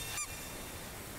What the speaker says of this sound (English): It makes a squeaky sound.